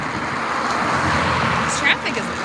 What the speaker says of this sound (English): This traffic is loud.